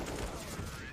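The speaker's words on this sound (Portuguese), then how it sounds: "Olha, 8 tiros." Rapid burst of about eight gunshots in the video game Counter-Strike during a professional IEM Cologne match, dense and continuous across a short one-second stretch, with commentary voices underneath.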